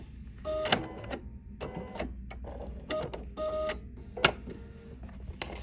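A sewing machine pieces fabric like a quilt block in short, whirring stitching bursts separated by brief pauses, fairly quiet and close, with a sharper clack now and then.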